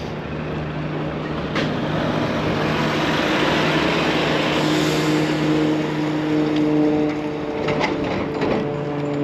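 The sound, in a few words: strong locomotive engines, doubled up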